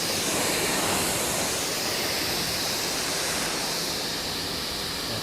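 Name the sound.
water spraying to rinse a car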